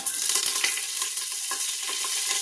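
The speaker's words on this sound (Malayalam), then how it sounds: "അപ്പം അതിൻ്റെ കൂടെ കുറച്ച് കറിവേപ്പിലയും കൂടി ഞാൻ ഇട്ട് കൊടുക്കുകയാണ്." Cinnamon, cloves, cardamom and curry leaves sizzle in hot coconut oil for a beef curry, a steady close crackling hiss with brief louder spits and stirring clatter throughout.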